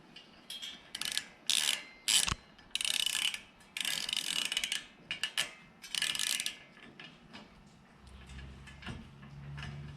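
Hand ratchet cranking a bolt tight on an ARS bed rack on a Jeep JT, bursts of rapid close clicking in several separate runs with short pauses between, ending in quieter handling noise.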